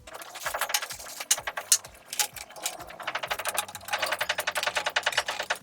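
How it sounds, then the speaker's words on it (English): A screwdriver works screws out of the blower motor of an LG air conditioner, making rapid close ticking and ratcheting clicks in quick irregular runs, loud and alone. "To remove these motors further, I will have to unscrew these screws."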